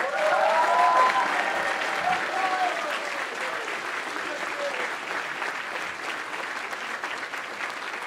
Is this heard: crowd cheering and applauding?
yes